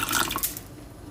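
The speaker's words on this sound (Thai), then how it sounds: "เดี๋ยวเป้จะเติมน้ำไปอีกนิดนึงน้ำให้พอดีกับข้าวนะคะ" Water poured into rice in a rice cooker pot, a short splashing trickle, close and moderately loud, that tapers off within a second.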